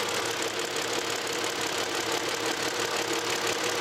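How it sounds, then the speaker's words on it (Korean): A 3-litre V6 car engine idles steadily in an open engine bay with an even, regular knocking rhythm, close up and loud, with no voices. "3000cc V6 엔진 소리 한번 들으러 가보도록 하겠습니다"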